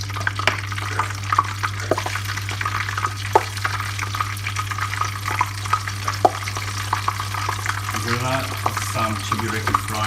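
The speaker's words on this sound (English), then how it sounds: "Some Chebureki frying." Chebureki, dough turnovers, frying in hot bubbling oil on a stovetop: a steady close sizzle with crackling pops and occasional sharp spatters, a low hum running underneath.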